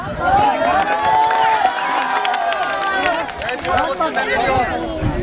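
Outdoor crowd at a greasy banana tree climbing contest, a loud lively babble of cheering and shouting voices that keeps going throughout, close and busy.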